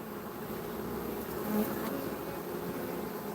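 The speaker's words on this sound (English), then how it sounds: "We have some bees going in and out here." A swarm of honeybees buzzes steadily around a hive, a dense, continuous drone of many wings close by, with no talking.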